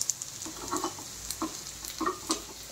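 Food fries gently in a little oil over a low gas flame, a soft crackle with quiet scattered pops and sizzles close by.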